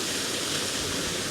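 A waterfall in Otway National Park pours in a steady, dense, hissing roar that fills the whole stretch, close and loud, with no pauses or other sounds.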